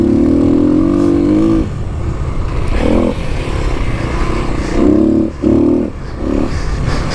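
A Kawasaki KLX300 dirt bike rides a sandy desert trail past berms and rocks, its single-cylinder engine droning loudly and close, with a long steady pull followed by several short throttle bursts.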